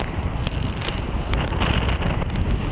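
Steady, loud wind buffets the microphone during a paragliding flight, a continuous rushing roar with no talk.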